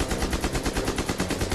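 A German MP-44 assault rifle fires on full automatic in a rapid, continuous burst of about a dozen evenly spaced loud shots.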